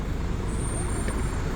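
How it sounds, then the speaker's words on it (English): Tour bus pulling away on a Dublin street, a steady low engine rumble with traffic noise throughout and a faint hiss of air brakes near the middle. "There goes the bus."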